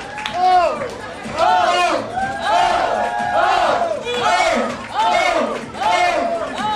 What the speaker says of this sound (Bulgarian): вашите аплодисменти за всички наши 12 бармана